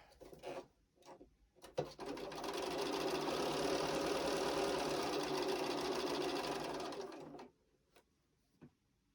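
A sewing machine stitches quilt pieces in a steady, fast run of about six seconds. A few clicks and handling knocks come just before and after it, and no one talks.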